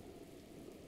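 Rain falling in The Legend of Zelda: Breath of the Wild makes a steady, soft, even hiss of patter that holds at a constant low level throughout, with no voices.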